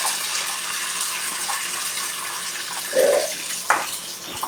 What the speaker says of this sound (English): Wash these hands.